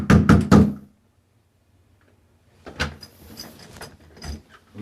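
Police knocking hard on a house door during a sheriff's call, three loud rapid raps, a pause, then more scattered knocks and thuds nearby.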